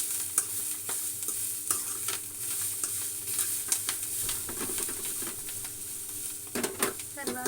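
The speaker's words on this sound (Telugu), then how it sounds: "ఇట్లా వేగుతుంటాయండి, పట్ట పట్ట పట్ట అంటున్నాయి చూడండి, మంచిగా వేగినాయి అనమాట" Sanangi leaves and tomato fry in a pan for chutney, giving a soft steady sizzle with light crackles and occasional stirring scrapes, fairly quiet and close.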